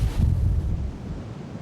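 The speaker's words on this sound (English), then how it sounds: "We'll take the waves." Surf on the Oregon coast, the ocean surging up through rocks, heard as a loud, steady low roar with wind buffeting the microphone and no voices.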